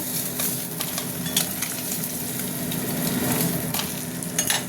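Steady crackling sizzle of fish belly pieces frying in hot oil, with occasional louder pops and spits throughout.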